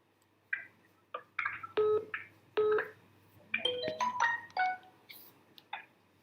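Keypad tones sound on a phone as a mobile number is entered, about a dozen short electronic beeps of varying pitch, some in quick pairs and clusters, with brief gaps between them and no talking.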